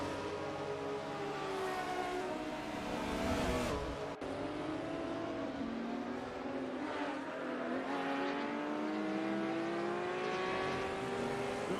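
Porsche race cars running nose to tail around Daytona in a sim racing game, several engines droning loudly together with rising and falling pitch as they shift and accelerate, continuous throughout with no talk.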